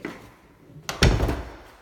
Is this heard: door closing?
yes